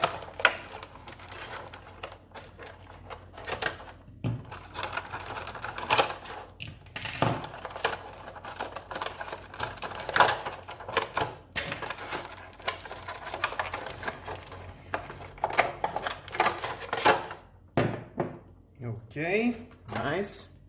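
Plastic case for a TARGA CR3B2 dashboard camera being opened during unboxing, with close clicks, snaps and crinkly plastic handling in quick irregular bursts, then a louder rustle near the end.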